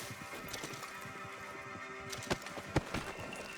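Horse in the Red Dead Redemption 2 video game, a faint snort and soft hoof thumps standing out briefly over a quiet outdoor ambience.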